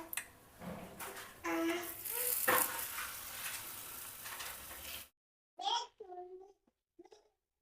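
Layered chapati frying in a little oil in a pan gives a soft crackling sizzle for several seconds with a voice talking over it, then the sound cuts out, leaving only brief speech.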